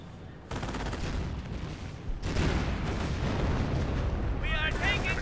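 Gunfire and artillery in the World War II strategy game Company of Heroes, a dense continuous barrage of shots and booms at steady loudness, with a sharper burst of fire partway through.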